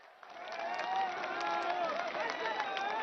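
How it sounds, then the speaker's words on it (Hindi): Crowd applause at the inauguration of the Saryu canal national project, a dense wash of clapping from a large audience that swells after a brief quieter start and carries on steadily, with voices mixed in. "एक बार जोरदार तालियों से सभी का स्वागत करें"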